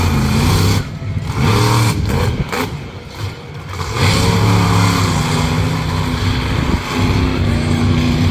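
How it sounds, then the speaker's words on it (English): A monster truck roars at New Egypt Speedway during a racing event, its loud, close engine revving and surging unevenly with brief dips in power, then climbing back to a sustained, throaty drone. "Slinging that truck around."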